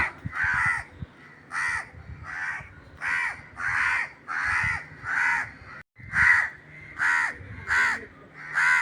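Loud, repeated crow caws from adult crows near their fallen chick, a steady series of harsh calls, about a dozen in a row, close by with no voices.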